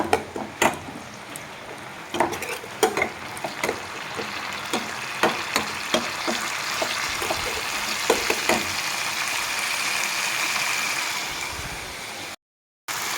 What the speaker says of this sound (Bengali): পেঁয়াজটাকে আমি ভেজে নিই ভালোভাবে মশলার সাথে